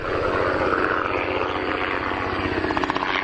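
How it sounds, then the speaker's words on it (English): A helicopter drones overhead at a beach on Dutch Island, its rotor chopping in a steady rapid pulse over a broad rumble, loud and continuous throughout. "And we got another helicopter coming."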